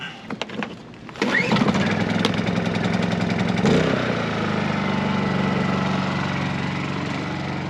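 A Honda portable generator, at a camper, starts after a few brief clicks and a pull, then settles into a loud, steady idling hum with a low drone and a brief shift in pitch when the choke is adjusted.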